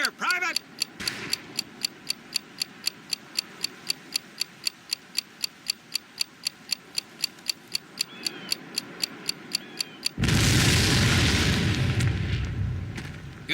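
Demolition charge in the World War II shooter Medal of Honor: Pacific Assault: a steady, rapid ticking countdown runs for about ten seconds, then a loud, sustained explosion roars and slowly fades.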